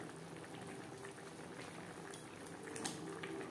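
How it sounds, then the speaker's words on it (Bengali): Bhetki fish kalia curry gravy bubbles in a pan as it comes to a boil, a soft, steady, close simmering burble with no talk. "এখানে আমি একটু গা মাখা মাখা ঝোল রাখবো। ফুটে ওঠা পর্যন্ত অপেক্ষা করব।"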